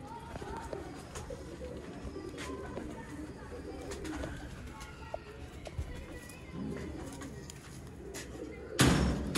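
Mian Nazir bloodline pigeons coo softly and repeatedly amid a busy, noisy background, with a sudden loud burst of noise right at the end.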